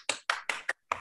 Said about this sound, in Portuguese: a gente abre a câmera e som para pelo menos fazemos umas palmas para a Verônica